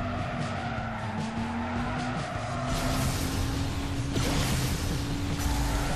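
A car drifts through Tokyo City streets in the Asphalt Nitro racing game, tires squealing and engine roaring continuously and loudly over about six seconds, with a whoosh partway through and no talk.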